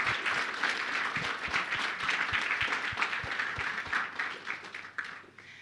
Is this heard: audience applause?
yes